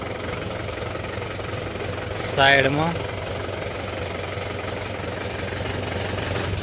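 A parked tractor idles near a temple, a low steady engine rumble running throughout beneath a brief spoken word.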